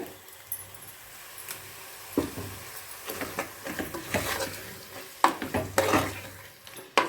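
Onion, tomato and coconut paste stirred into sizzling chicken gravy in a pan, with repeated scraping stirs and clinks of a spoon over a continuous close sizzle, no voices.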